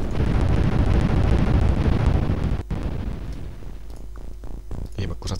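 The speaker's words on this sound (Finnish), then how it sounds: "Just ei ylettynyt toi hemmetin räjähys siihen." A loud, rumbling explosion roars from the video game UFO Enemy Unknown and then fades into a lower, crackling tail with scattered pops. Faint voices or game sounds come through near the end.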